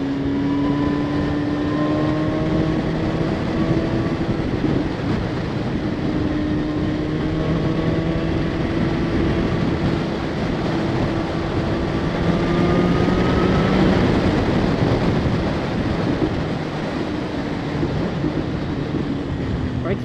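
A 2016 BMW S1000RR motorcycle engine drones steadily while being ridden, its tone slowly rising and falling beneath a constant rush of wind.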